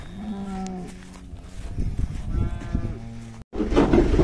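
Cows and calves mooing on a cattle farm during sorting, long low bellows overlapping one another, close and loud against steady background clatter and noise.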